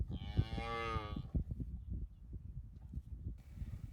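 A cow on a farm with draft horses and calving season moos once, long and loud and close by, followed by low rustling and faint farmyard noise.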